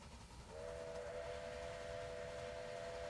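A steam locomotive whistle in the Railway Empire game sounds a steady, clear two-tone blast that starts abruptly and holds for a few seconds over a low rumbling train bed, fairly quiet overall.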